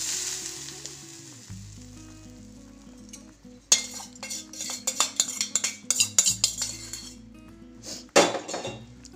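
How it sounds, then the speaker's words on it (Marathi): Hot tempering poured over a raw mango filling, a sharp burst of sizzling with clinks of a pan and spoon and a low background hum, crackling in uneven bursts. "ही फोडणी आपल्याला या कैरीच्या सारणावर टाकून घ्यायची आहे"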